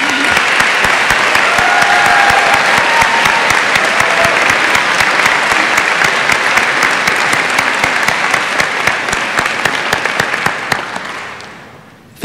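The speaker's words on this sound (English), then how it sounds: "you deserve a round of applause" Sustained applause from a high school graduation audience at Fredonia High School, a dense, steady wash of many hands clapping for about eleven seconds before fading out at the end.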